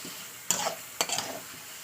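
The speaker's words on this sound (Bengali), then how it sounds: "সেগুলোকে ভালো করে তেলের সঙ্গে কষিয়ে নেবো" Tomato pieces frying in oil in a pan are stirred twice with a utensil, each stir a sharp scrape followed by brief sizzling, quiet and close, with no voices.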